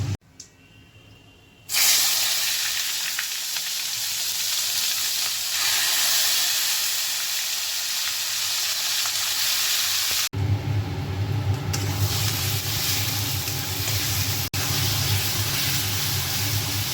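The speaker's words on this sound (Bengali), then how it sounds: "আলু ভেজে রেখেছি, কুমড়োটা ভাজছি" Pumpkin pieces fry in an oiled pan at home with a loud, steady sizzle and hiss that starts after a quiet moment, briefly drops out partway, then resumes at full strength.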